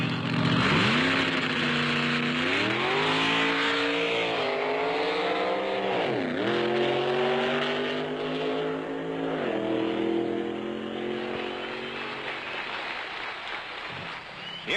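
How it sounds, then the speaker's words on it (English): Factory experimental drag racing cars launching off the starting line and accelerating toward 130 mph; a loud engine roar with rising pitch sweeps through several gear changes, fading slightly as the car pulls away. "the factory experimental cars thrill the crowd as they lunge off the starting line and blast to"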